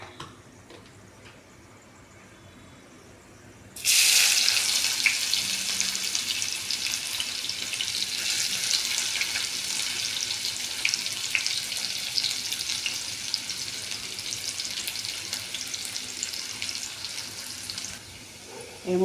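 Onions tipped into hot oil in a kadai already holding two dry red chillies, a bay leaf and panch phoron, bursting into a loud, steady sizzle after a quiet start and frying on evenly until near the end.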